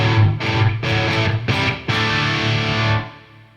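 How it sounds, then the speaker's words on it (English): Crunchy distorted guitar from a Crunch amp model in a Neural Pliny plugin, pushed through V30 speakers: several strummed chords struck in quick succession, then a final chord ringing out and fading, loud and alone. "So I'm using the Crunch amp, sounds like this."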